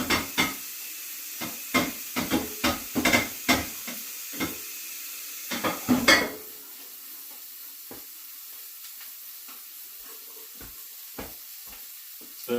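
Thinly sliced chicken searing in a hot pan, a string of sharp crackling bursts and scrapes over a hissing base, then a quieter, fainter sizzle with occasional pops.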